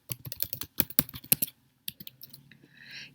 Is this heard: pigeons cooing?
no